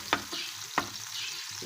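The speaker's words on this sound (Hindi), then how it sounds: "तो जब टमाटर डालें तो इनको ज़रूर अच्छी तरह से प्रेस करें और इनको 1 मिनट तक फ्राई करें।" Tomatoes pressed and frying on low heat in a pan for a Pakistani-style omelette, with two sharp scraping stirs over a steady soft sizzle, close and alone.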